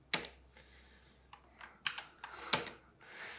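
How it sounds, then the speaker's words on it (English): Keys tapped on a computer keyboard in short irregular bursts, crisp clicks close to the microphone with pauses between runs, no talking. "I'll double check every line as I type"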